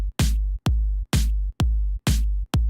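An electronic drum beat programmed on an NI Maschine, with loud kick-and-snare hits in a steady repeating pattern and reversed swells rising into several of the hits, alone with no talk.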